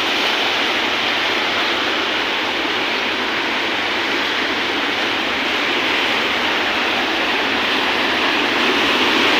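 The Sabari river rushes over rocks near the Odisha–Chhattisgarh border, a loud, continuous roar of churning water heard up close, steady and without talk.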